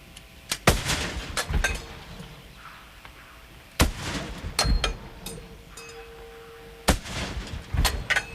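Artillery rounds fired in a ceremonial salute at a D-Day 60th anniversary commemoration, three loud booming reports spaced about three seconds apart, each trailed by a rolling echo and scattered smaller pops, heard outdoors with no talk.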